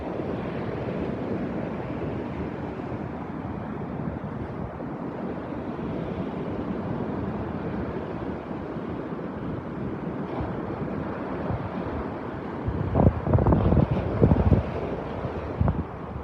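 Wind roars and ocean surf pounds steadily on the coast at North Naples, Florida, as Hurricane Elsa passes, a loud continuous rush with heavy gusts buffeting the microphone, growing harsher toward the end.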